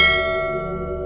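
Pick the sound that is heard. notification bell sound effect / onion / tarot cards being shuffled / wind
notification bell sound effect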